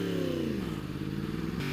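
A motorcycle with a quick shifter accelerates on a road as a storm rolls in, its engine note climbing and then dropping sharply at each rapid upshift, loud and close throughout.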